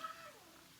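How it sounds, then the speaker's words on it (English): A house cat gives a single faint, drawn-out meow that slides downward in pitch, heard quietly in the background, followed by a sharp click at the end. "so if you hear a little meowing in the background"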